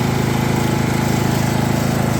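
Husqvarna lawn tractor with its mower deck running, a steady, loud engine drone with a fast regular pulse and a constant whirring hiss from the blades, close by and with no talk.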